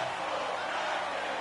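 A packed ice hockey arena crowd during a tied game, a steady broad roar of many voices filling the space, continuous and fairly loud throughout.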